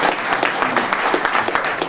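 Audience at an Atlantic City council meeting applauding, a steady wash of many hands clapping at close range with a few sharper individual claps standing out.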